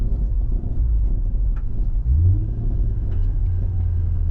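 Engine of a manual car during a driving lesson as the driver downshifts, a continuous low cabin rumble with a slight rise in pitch midway, heard from inside the car.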